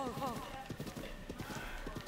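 Hooves of a horse clip-clop in a steady walking rhythm at moderate distance, with a person talking over the first part.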